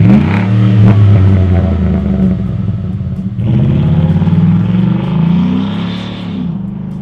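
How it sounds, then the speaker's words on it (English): Ford F150 pickup with a 5.0L V8 and MBRP 3-inch single-exit cat-back exhaust, revving loudly up close in a steady deep rumble, dropping briefly and rising again into a strong, throaty drone. "The MBRP 3-inch single exit catback kit is a great choice for anyone who wants a mean sound for their truck"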